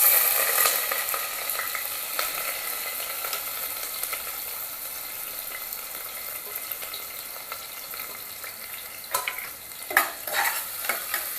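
Onions frying in hot oil on a high flame for a spicy mutton dish, a continuous close hiss and sizzle with occasional stirring scrapes and a few louder clatters near the end, no talking.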